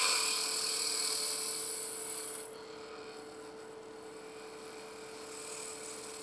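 Wood lathe spinning an egg blank while the turner squares it up, a steady loud whirring hum with scraping that drops to a quieter steady run partway through.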